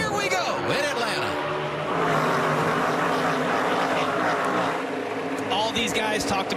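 Many NASCAR race car engines roar together at the start of a race in Atlanta, a loud, dense rumble that swells as the field gets going, with crowd and commentary mixed in.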